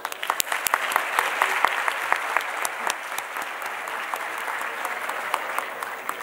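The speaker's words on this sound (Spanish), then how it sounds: "Un aplauso" A classroom audience of students at a leadership showcase breaks into steady, dense applause, sharp individual claps standing out near the start before settling into an even patter for several seconds.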